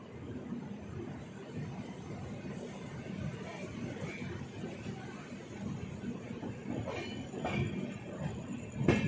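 Steady low rumble and rattle from inside the moving Yesvantpur–Gorakhpur Express (12592) train in India, continuous and fairly quiet, with a few faint clinks toward the end.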